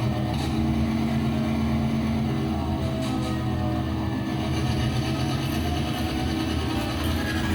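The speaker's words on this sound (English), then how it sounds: "We'll throw it in reverse, and then start throttling up." A model train locomotive running in reverse throttles up with a steady, continuous motor hum and rumble, close and sustained throughout.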